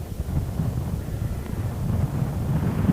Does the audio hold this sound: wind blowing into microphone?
yes